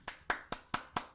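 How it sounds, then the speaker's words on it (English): Five sharp hand claps ring out at an even, unhurried pace, each crisp and close but fairly quiet, with nothing else around them. "I'm gonna stop playing and clap."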